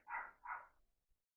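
Dogs bark twice in quick succession, faint and distant, as if picked up through a doorbell or security camera, then fall silent.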